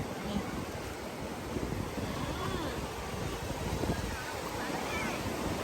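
Sea waves washing onto a crowded beach in Vietnam: a steady, broad rush of surf and wind noise across the whole stretch, with no clear talk above it.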